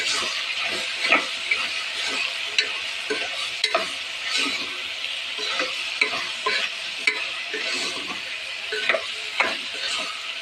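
Ivy gourd curry cooks in a pan, stirred steadily with a spoon that scrapes and taps the metal in an irregular rhythm over a constant hissing sizzle, close and clear without speech.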